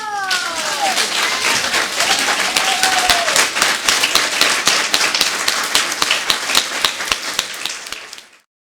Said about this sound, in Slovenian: Še en aplavz!